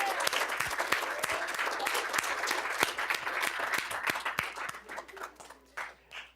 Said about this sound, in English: Guys, you want to give your coaches and the parents a round of applause for everything they did putting this together?